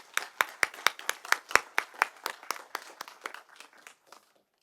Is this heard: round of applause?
yes